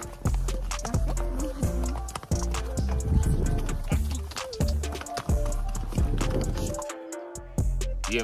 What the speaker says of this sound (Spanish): iniciamos un recorrido a caballo por varios kilómetros hasta la Laguna Negra